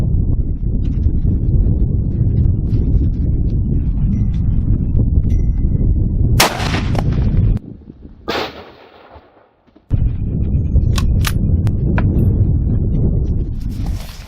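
A Mosin rifle firing a 7.62x54R round at a Level IV armor plate on an outdoor range gives a loud, sharp crack and then a booming echo that dies away, set against steady wind or background roar.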